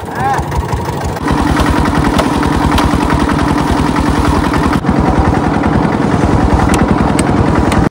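A boat engine runs steadily on a river fishing trip for khoira fish, a loud close throbbing drone that swells fuller about a second in and holds its rhythmic chug to the end, with voices occasionally over it.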